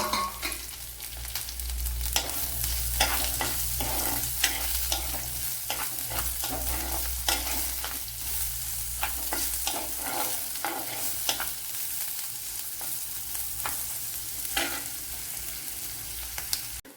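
Sliced onion sizzles in hot oil while being made into a gooseberry curry, a continuous close frying hiss punctuated by frequent rhythmic scrapes of a spatula stirring across the pan.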